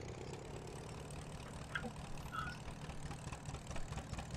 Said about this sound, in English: this tractor is a bit quiet compared to the John Deere